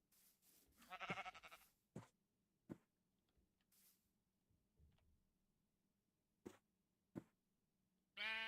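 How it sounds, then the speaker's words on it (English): Minecraft sheep bleating in a quiet game world, one wavering bleat near the start followed by sparse soft clicks and footsteps and another bleat cutting in at the end. "Yeah, you're safe, Mr. Sheep."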